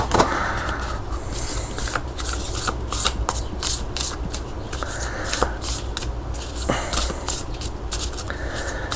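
New Earth Tarot cards being riffle shuffled by hand, repeated crisp fluttering bursts as the deck interleaves, with taps and bridging between shuffles, close and fairly loud with no speech.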